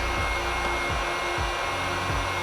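Steady, close blowing roar of a heat gun warming vinyl wrap film on a car, a constant airy hum with faint low thumps recurring every half second or so; nobody speaks.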